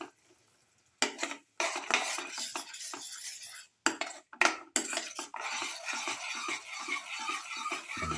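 Stirring a rice and beetroot mixture in a cooking pan, with a spoon clinking and scraping against the pan in a steady, close, fairly loud run of scrapes after a brief quiet start.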